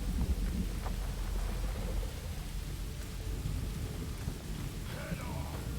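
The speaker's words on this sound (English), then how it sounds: "And it's raining blood, heavily." Heavy rain and rolling thunder in Pathfinder: Wrath of the Righteous, a steady loud downpour hiss with deep rumbles throughout, a storm of raining blood in the game.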